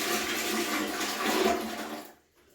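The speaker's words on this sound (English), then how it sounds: "I will empty this bowl of water out in the toilet" Water from a shaving bowl is tipped into a toilet, a steady close splashing pour that runs about two seconds and then stops abruptly into near quiet.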